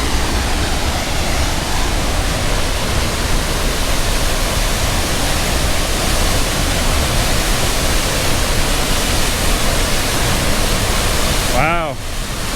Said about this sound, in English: I was gonna stand under that waterfall